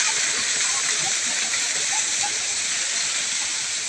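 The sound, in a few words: rushing water at waterfall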